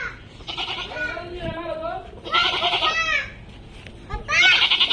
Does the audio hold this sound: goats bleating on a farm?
yes